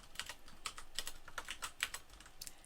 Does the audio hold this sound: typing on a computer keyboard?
yes